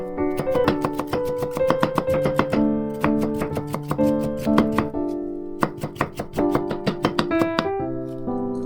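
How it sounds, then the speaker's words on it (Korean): A knife cuts sweet potato into thin julienne strips for a rice cake dish, giving quick, regular chopping taps on a board under steady background music. "고구마를 채 썰어주세요."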